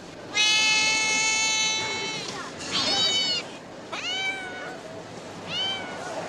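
Several cats meow loudly and close by, one long drawn-out yowl followed by shorter rising meows at a steady pace, with faint background noise.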